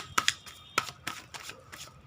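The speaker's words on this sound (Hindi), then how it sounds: "मैं जब तक कार्ड मिक्स कर रही हूँ यस और नो का कार्ड निकालने के लिए" Tarot cards being mixed by hand, a quick series of crisp riffling snaps and soft flicks, close and alone without talk.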